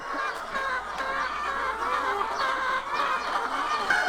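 A flock of free-range chickens on a yard-raised poultry farm of about 2,500 birds clucks continuously, many overlapping calls close by with a busy outdoor murmur.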